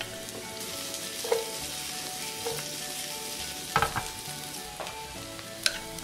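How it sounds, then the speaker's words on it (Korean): Garlic and onion fry in butter and cooking oil with a steady, close sizzle, broken by occasional clinks and scrapes of stirring. "버터 넣고 식용유에 마늘과 양파를 노릇하게 먼저 볶아주고"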